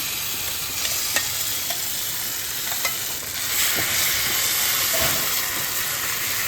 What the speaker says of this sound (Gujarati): આ સ્ટેજે આપણે આમાં બાફેલું શાકભાજી નાખી દઈશું.